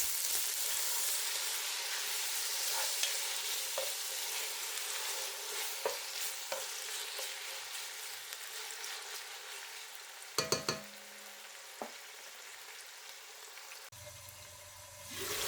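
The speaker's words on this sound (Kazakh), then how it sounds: "Қазанымызға өсімдік майын құйып, қыздырып, үстіне етімізді саламыз да қуырып аламыз" Beef sizzles in heated vegetable oil inside a kazan pot, giving a soft, continuous crackling hiss that stays low throughout, with a few sharp metallic clinks near the end and no voices.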